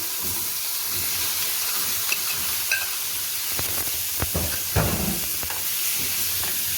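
Potatoes sautéing in ghee with meat for an Egyptian meat and potato tagine, giving a steady close sizzle and hiss with a few soft stirring scrapes, no voices.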